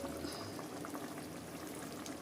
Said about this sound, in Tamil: அரைச்சி வச்சிருந்த பச்சை மிளகா கருவேப்பிலை தேங்காய் புட்டுக்கலையை ஊற்ற போகிறோம்